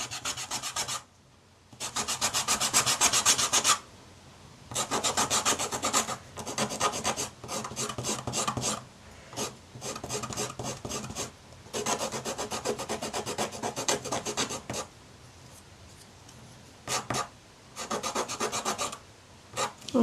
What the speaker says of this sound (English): Where's my little sanding block thing?